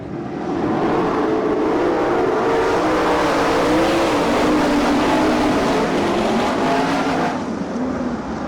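Race cars roar off at the start of a dirt track heat race at Franklin, Pennsylvania, the engines swelling into a loud, sustained drone with wavering pitch as the pack gets going, then easing off near the end.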